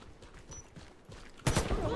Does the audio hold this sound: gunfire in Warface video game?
yes